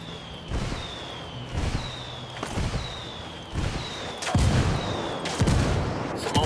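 Explosions and gunfire in the Ghost Recon Wildlands video game, a series of sharp booming shots and blasts at roughly one-second intervals with whistling streaks between them, fairly loud with no voices.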